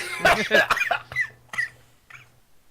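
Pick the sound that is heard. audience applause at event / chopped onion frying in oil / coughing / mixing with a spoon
coughing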